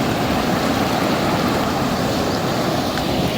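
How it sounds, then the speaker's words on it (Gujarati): Heavy rainwater from a long day of village rain rushes through a drain, a loud, continuous broadband roar and gush with no voices. "નાળા પર તો કેટલું ભારે પાણી જાય"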